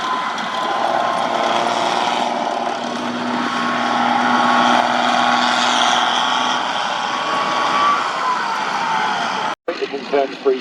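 An Abbot self-propelled artillery tracked vehicle manoeuvres at an outdoor light tracked vehicle display, its engine a steady, loud roar for most of the span while someone talks over it, then a brief cut and a shorter burst at the end.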